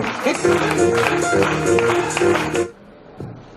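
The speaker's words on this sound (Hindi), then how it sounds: "एक जोरदार तालियों स्वागत करते हैं।" An audience claps to welcome a speaker onto a stage at an event, steady applause mixed with music tones, then cutting off abruptly and leaving quiet room sound.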